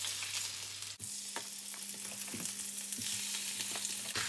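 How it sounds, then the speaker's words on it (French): Chicken thigh bones frying skin-side down in a hot pan with a little fat give a steady, close sizzle that runs the whole time, with a low hum underneath and a few faint clicks of utensils. "je vais faire revenir donc mes os de cuisse de poulet, la peau à l'envers"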